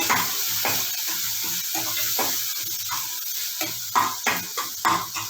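Tomato frying with turmeric powder in a pan, a steady sizzle running throughout with repeated scraping strokes of stirring that grow sharper toward the end, close by and with no talk.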